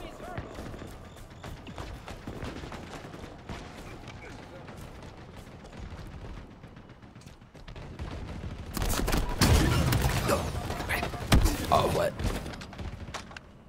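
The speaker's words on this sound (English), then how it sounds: "Did I just shoot two rockets at the same time?" A rocket launcher fires in Halo Infinite gameplay, loud blasts and explosive bursts swelling late in the clip over quieter clattering game action and other weapon noise.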